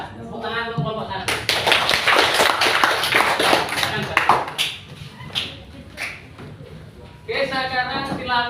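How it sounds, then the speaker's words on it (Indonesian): Classroom applause for a student group during presentations, a few seconds of brisk, uneven clapping by a modest crowd, bracketed by a teacher's voice before and after. "Tepuk tangan untuk kelompok 1"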